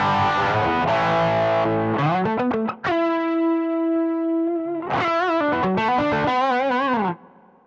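Electric guitar through a Zoom GFX 707 compressor and overdrive, gritty distorted chords and quick runs around a long sustained held note with wobbling vibrato, loud and close with no talking.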